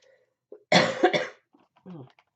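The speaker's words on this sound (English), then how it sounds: "I'm sorry for the coughing." A few harsh coughs in a quick burst, close and loud, followed by a softer throat-clearing sound.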